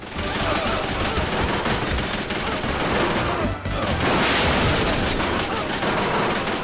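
Spread gun fire in the arcade shooter Wolf of the Battlefield: Commando 3, a dense, continuous barrage of rapid shots and explosive bursts with one brief gap midway.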